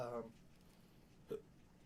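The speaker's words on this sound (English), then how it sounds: "I got the hiccups" One short, abrupt hiccup comes from a weather presenter during a live broadcast. It is faint and close, and a brief bit of talk comes just before it.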